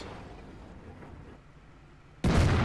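Tank cannon shot striking an enemy Jagdpanzer tank destroyer in World of Tanks, a sudden loud blast arriving at the end after a quiet stretch of low engine rumble.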